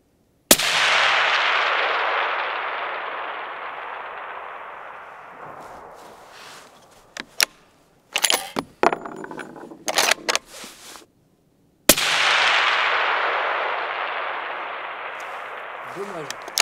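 Long-range rifle fired at a 1000-metre target: two sharp, loud shots, each trailing a long rolling echo across open ground, separated by clicking and handling noises in between.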